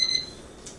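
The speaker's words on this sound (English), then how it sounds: "timer's going off." Timer alarm going off indoors as a brief high electronic beep at the start, fading quickly into quiet room noise.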